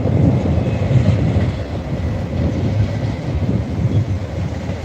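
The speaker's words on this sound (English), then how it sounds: "And this is a mail train." A long mail train carrying UPS trailers rolls across a bridge with a 10-ton weight limit, a steady, loud, close rumble of heavy cars that holds for the whole stretch without a break.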